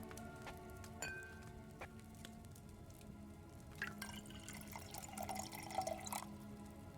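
Liquid pours and drips into a vessel during alchemy brewing in Kingdom Come Deliverance 2, a soft steady trickle with scattered drips building slightly louder toward the end, alone without talk.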